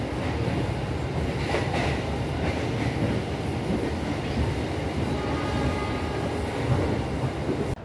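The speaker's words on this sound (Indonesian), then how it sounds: "perjalanan kereta api Argo Cirebon sudah diberangkatkan dari stasiun Bekasi" An Argo Cirebon passenger train rumbles steadily along the rails after departing Bekasi station, a continuous loud roar with faint rhythmic clatter throughout.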